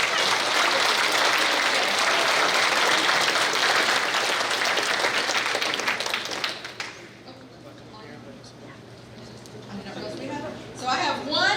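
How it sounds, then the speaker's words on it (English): An audience at a school awards day claps loudly and continuously for about seven seconds, then the applause fades into quieter murmuring and a voice. "y'all give him a round of applause."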